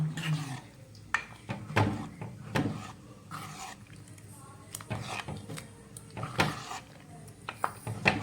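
Sweet pongal with cardamom, raisins and cashews being stirred in a pot, giving irregular clinks and scrapes of a spoon against metal at close range, with brief low voices in between.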